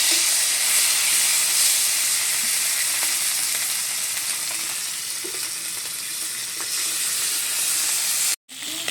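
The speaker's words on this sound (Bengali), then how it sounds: "তেল গরম হয়ে গেছে, মাছ দিয়ে দিচ্ছি, মাছগুলো ভেজে নেব।" Fish frying in hot oil in a kadai gives a loud, continuous close-up sizzle and hiss that holds steady throughout, with faint clinks and a brief cut near the end and no talking.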